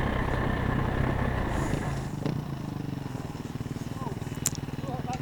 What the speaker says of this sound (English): Listen to the sound of that 350 purr.